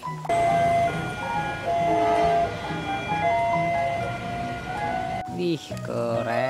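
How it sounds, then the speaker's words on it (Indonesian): A battery-powered toy train plays its electronic running sound with a horn toot, found while cleaning a toy sand dump truck. The sound is loud and continuous, with a short break and a voice near the end. "Kereta api."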